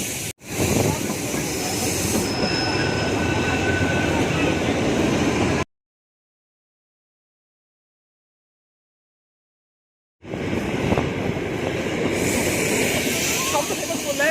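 The Kalka to Shimla toy train running on its track, a loud hissing, rattling rush of wagon noise that cuts to silence for several seconds midway and then resumes.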